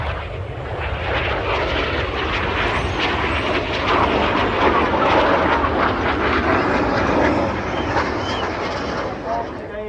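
Red Arrows aerobatic jets flying an air display at the Bournemouth airshow, a loud sustained engine roar that swells slightly toward the middle, with a commentator's voice over it.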